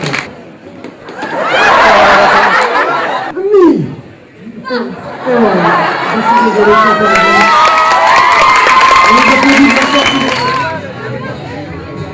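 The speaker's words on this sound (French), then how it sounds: "On peut l'applaudir vraiment fort." A crowd at a Japan Sun event cheers and shouts loudly, with children's voices and excited chatter; the noise stays dense and loud throughout, briefly dipping before it swells again.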